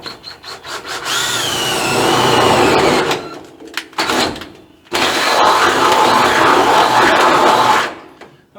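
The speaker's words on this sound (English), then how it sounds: "Let me get my drill." A power drill whirs loudly in two long bursts, with a short pause between them and the motor pitch shifting as it bites into material.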